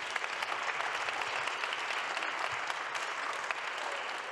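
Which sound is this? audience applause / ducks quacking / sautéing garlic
audience applause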